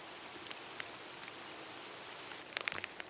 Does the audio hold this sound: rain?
yes